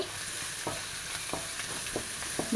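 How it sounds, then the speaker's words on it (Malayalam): Ginger and garlic sautéing in a pan for a mixed biriyani, with a steady close sizzle under repeated scraping stirs of a spoon against the pan, with no voices. "ഇതെല്ലാം കൂടി നന്നായിട്ടൊന്ന് വഴണ്ട് വരട്ടെ നല്ല മണമൊക്കെ വരണം"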